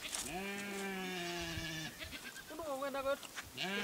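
A goat bleating in Kaokoland, Namibia: a long, wavering, nasal call, then a shorter quavering bleat and the start of a third, near and clear.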